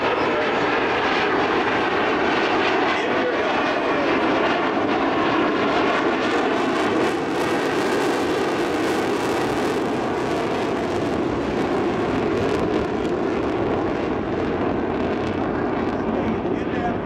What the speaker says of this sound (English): From your left, at minimum speed, approximately 110 knots of ground speed, the high alpha pass.